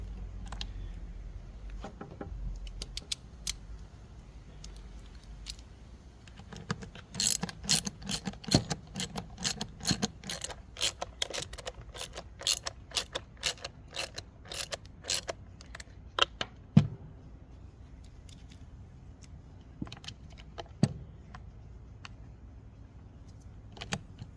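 Screws are driven down into the plastic shield of an Echo SRM-230 string trimmer, giving a long run of sharp, irregular clicks and ratchety rattles at close range, dense in the middle and thinning toward the end, with no voices.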